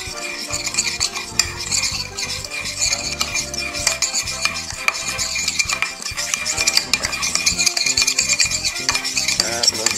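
Spoon briskly stirring a wine vinegar basting sauce for Jamaican BBQ pork tenderloin, continuous scraping and clinking of metal against a bowl, close and busy with no talking.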